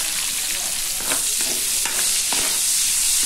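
Chopped onions sauté in a hot pan for Pampanga-style pork kilawin, giving a steady loud sizzle with stirring scrapes and soft clatters throughout, no voices.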